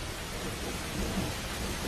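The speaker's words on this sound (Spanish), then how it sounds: "En el apogeo de la estación húmeda llueve casi cada día." Heavy wet-season downpour with thunder, a steady dense roar of rain and low rumbling filling the air continuously, with no voices.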